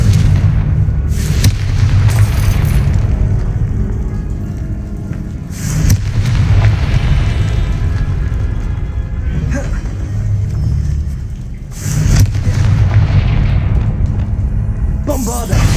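Confringo spell blasts from Hogwarts Legacy combat, several heavy booming explosions a few seconds apart over a constant rumbling game soundscape, loud and near, with voices shouting between them.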